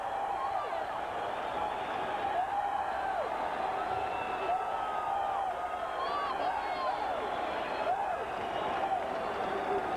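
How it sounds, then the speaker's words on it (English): Boxing arena crowd roaring and cheering after a seventh-round knockout win, a dense, steady wall of voices and whoops filling the whole stretch, with an announcer talking over it. "Listen to this crowd."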